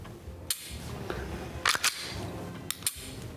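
Dry-fire clicks from the trigger of an unloaded homemade gun: a few sharp mechanical snaps spaced over a few seconds, close and fairly crisp, with no talking over them.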